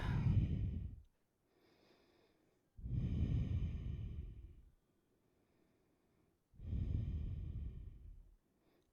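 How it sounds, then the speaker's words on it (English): Three slow, deep breaths drawn in and let out during a core-focused yoga flow, each long exhale rushing audibly before a quiet pause, close and alone with no talk. "Take a deep breath in."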